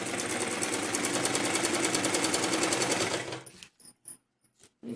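Sewing machine stitching along a net blouse sleeve backed with a fabric strip, a steady loud run of rapid stitching that stops abruptly, followed by a few faint clicks and handling sounds.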